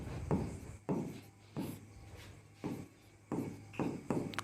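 Chalk strokes across a classroom board as a teacher writes, a series of short scratchy scrapes and taps, about six distinct strokes with brief gaps, close and quiet.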